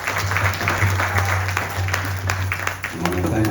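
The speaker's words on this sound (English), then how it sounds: "Please give them a nice round of applause." Audience applause at a family memorial yagna gathering, a brief burst of clapping beneath a humming tone and a voice speaking over it.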